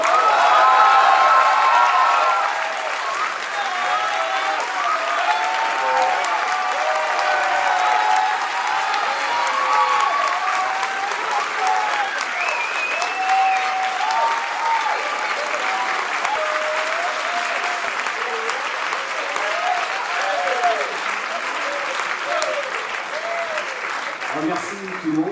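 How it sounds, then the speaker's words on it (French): Sustained audience applause fills the room at the end of a cabaret show, with warm crowd clapping throughout and a voice speaking over it. "Je pense que vous pouvez vraiment l'applaudir."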